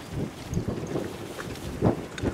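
Steady wind rushes across a sailboat under way near the sea, with low gusty buffeting and faint water movement, continuous and fairly close, without talk.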